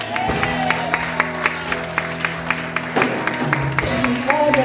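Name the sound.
congregation applauding in church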